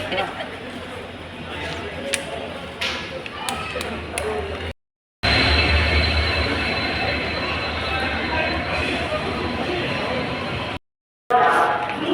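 A train rumbles and clanks at Gadag railway station while people talk over it, broken by two brief moments of silence.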